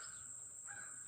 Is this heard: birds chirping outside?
yes